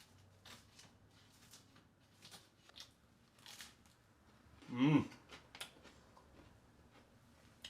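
A single loud crunchy bite into a toasted homemade English muffin, close up, around the middle, with faint rustling and clinks before and after.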